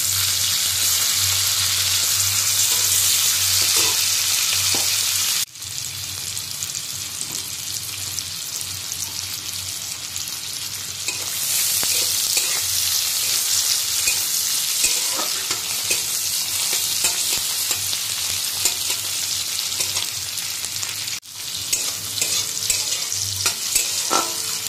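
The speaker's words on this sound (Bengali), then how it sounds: "কড়াইতে জিরে আর পেঁয়াজ ফোড়ন দিয়ে দিয়েছি" Cumin seeds and onion sizzle vigorously in hot oil in a kadai, a loud continuous frying hiss with occasional stirring clinks and short breaks in the crackle.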